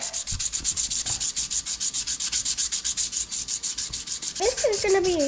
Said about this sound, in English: So we're going to take some sandpaper and just clean this up.